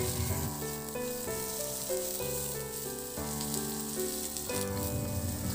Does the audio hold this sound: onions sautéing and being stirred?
yes